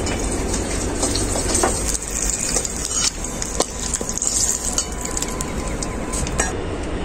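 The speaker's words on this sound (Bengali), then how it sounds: "ওই তেলেই আমি আলুগুলো ভেজে নেব।" Potatoes fry in the oil left over from frying eggs for a dak bungalow chicken dish, giving a steady close sizzling hiss with occasional clinks of a utensil against the pan.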